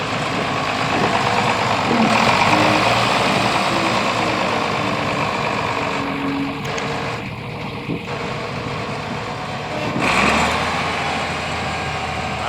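An International 856 tractor, once stuck and long left sitting, idles after finally cranking up, a loud, steady, close diesel rumble that holds through the whole stretch with a brief dip and surge.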